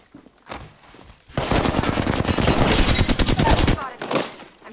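Rapid automatic gunfire from a shooter video game, loud sustained bursts of dense shots forming a continuous volley, preceded by a few scattered single shots and trailing off into another short burst.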